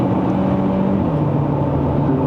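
Engine of a 2024 Chery Tiggo 7 Pro pulling in third gear in manual mode, heard from inside the cabin as a steady, loud drone with a low, slowly rising tone and wind noise, no talk.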